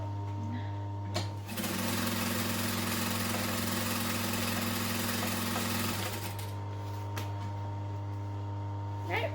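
A sewing machine runs a steady, close, continuous stitching burst of about four and a half seconds while sewing a duffel bag, with a low motor hum under it and brief handling noises before and after.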